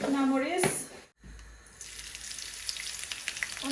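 Dried red chillies spit and crackle in hot oil for tempering dal, a close frying hiss that follows a short burst of voice and a brief silence.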